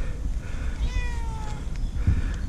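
A rescued cat gives a single drawn-out meow, rising and then trailing off, heard close but fairly soft against quiet room noise.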